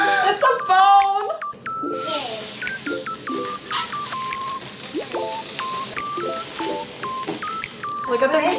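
Telephone keypad dialing tones from a toy phone at a birthday party, a rapid string of short, bright beeps in uneven bursts, close and clear, with voices and background chatter around them.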